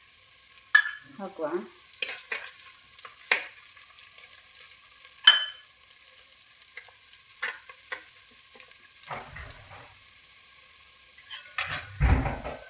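Curry leaves fry and are stirred in a pan of browned ingredients, giving a steady sizzle with scattered scraping and clinks of the spoon against the pan, close up, and a brief word spoken.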